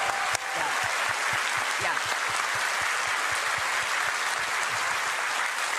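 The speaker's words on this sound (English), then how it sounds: "Let's give them a round of applause." A large convention crowd at a game developer livestream event applauds steadily and continuously, dense clapping with a brief voice heard near the start.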